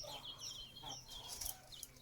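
Chickens and young chicks clucking and peeping in a farmyard, several birds calling in overlapping short chirps and clucks at moderate distance over a steady low background hum.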